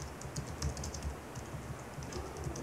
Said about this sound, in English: We're going to type something about this picture.